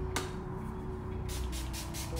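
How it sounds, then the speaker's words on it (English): Urban Decay All Nighter setting spray mists out in a short burst, then several quick hissing pumps follow in a row, close and quiet over a low steady hum. "Now I'm about to put on my Urban Decay All Nighter Spray."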